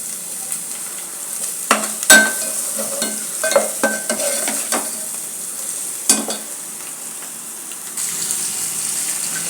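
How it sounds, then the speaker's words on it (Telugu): Masala for a Kadapa-style chicken pulao frying and being stirred in a pan: a steady close sizzle under scattered scrapes and clinks of the spoon, with a few sharper knocks, no talk. "బాగా వేపుతున్నాను అట్లే మసాలా."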